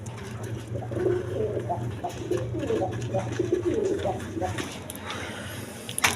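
Pigeons coo softly in low, rolling murmurs at a farm where birds are sold, someone speaking over them throughout.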